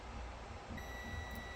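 A multimeter on a continuity test beeps while an Allen & Heath ZED10 mixer is being repaired: a steady, faint electronic tone begins partway through and holds to the end over low background hum.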